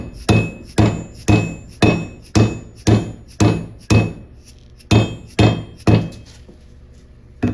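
Hammer blows shaping the flat ends of a twisted copper bracelet, about a dozen sharp, ringing metallic strikes in a steady rhythm, close and loud, with no talking.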